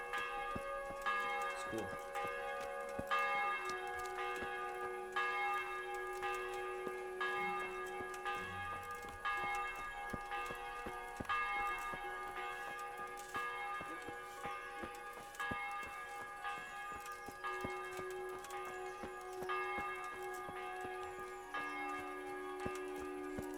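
Church bells ring repeatedly in a medieval village in the game Kingdom Come: Deliverance, steady layered tolling with a long sustained hum, moderately distant and continuous throughout, with no talk.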